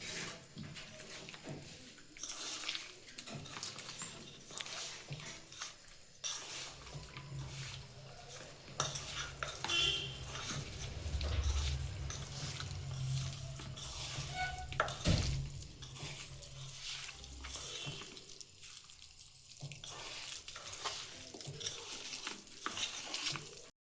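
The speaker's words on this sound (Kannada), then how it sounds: "ಇದಕ್ಕೆ ಎಣ್ಣೆ ಹಾಕ್ಕೊಂಡು ಇದು ಸ್ವಲ್ಪ ಚೆನ್ನಾಗಿ ಕಲಸೋಣ್ರಿ" Chicken pieces are mixed with a couple of spoons of oil by hand for chicken sambara, making soft wet squelching and stirring sounds with occasional clinks of a bowl, fairly quiet and continuous, no voices.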